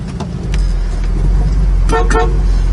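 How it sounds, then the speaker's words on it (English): Horn of a 1970 Plymouth Cuda with a 383 engine, two short honks near the end over the close rumble of the idling engine. "Horn also working."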